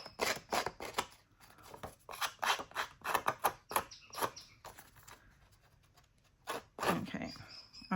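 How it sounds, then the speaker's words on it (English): Sharp craft scissors cutting paper while making a shabby chic queen bee card: a close series of crisp snips and rasping cuts in an irregular rhythm, with short pauses between strokes. "there's a good chance it will tear because these scissors are quite sharp"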